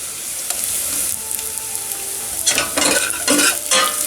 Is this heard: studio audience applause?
no